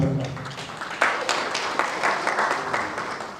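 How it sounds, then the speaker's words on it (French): An audience at a Senegalese accountants' club scientific committee meeting breaks into applause, loud at first and then thinning slightly, with many hands clapping together for a few seconds. "applaudissez la classe s'il vous plaît, applaudissez la classe"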